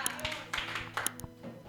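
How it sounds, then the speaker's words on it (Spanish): A church congregation claps in a faint, scattered burst of quick hand claps over soft talking. "Oiga, usted se merece un aplauso, dése un aplauso usted mismo."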